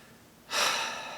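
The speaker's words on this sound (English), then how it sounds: "Now if you hear that snoring in the background, that is my dog, Nickelbrick." A single breathy snore from a pit bull, a short rasping inhale that swells suddenly and fades, close by and alone.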